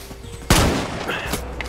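A single sharp gunfire volley in the Far Cry 6 video game hits hard after a short pause, its boom and crackle decaying over the following second with faint game ambience.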